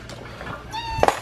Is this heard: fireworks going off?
no